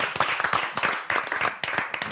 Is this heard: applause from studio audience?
yes